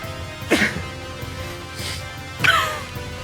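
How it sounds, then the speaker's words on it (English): Two sharp sneezes burst out about two seconds apart, close and fairly loud, with a quieter breathy sound between them. "I gotta sneeze."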